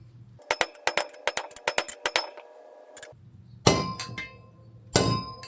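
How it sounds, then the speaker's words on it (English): A hammer taps a bearing race into a Dana 60 hub during a kingpin rebuild: a rapid run of sharp metallic clinks, then a few heavier, ringing clangs spaced apart, close and with no talk. "just kind of make sure you stay on the edge and just kind of tap them in"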